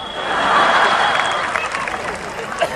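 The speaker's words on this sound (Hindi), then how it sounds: "जोरदार तालियां हो जानी चाहिए" A university audience at a comedy show breaks into applause, a dense, fairly loud wash of clapping that swells and then gradually thins out.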